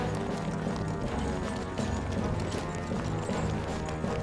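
Cartoon chariot horses gallop in a race, a dense, loud clatter of hooves running steadily throughout with no pauses.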